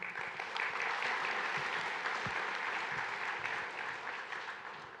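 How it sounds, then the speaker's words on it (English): An audience at a technical conference talk on Spark on YARN applauds, a dense, steady clapping from many hands that holds for several seconds before tapering off near the end. "I didn't know asking a question, getting an applause"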